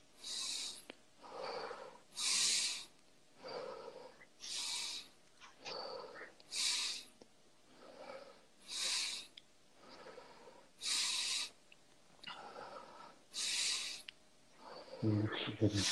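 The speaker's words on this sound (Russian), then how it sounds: "просто дышите глубже." Deep, slow breaths drawn in and pushed out during a psychology consultation exercise, about eight loud broadband breath cycles spaced a second or two apart, close to the microphone with no talking.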